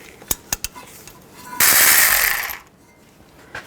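A 12mm socket removes a wheel hub bolt on a 2004-08 Nissan Maxima front hub: a few sharp ratchet clicks, then a loud, close, second-long burst of harsh whirring rattle that fades out.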